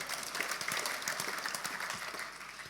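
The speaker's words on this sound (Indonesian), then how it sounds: "Boleh tepuk tangan." Church congregation applauding during a sermon, steady dense clapping filling the room at moderate volume without pause.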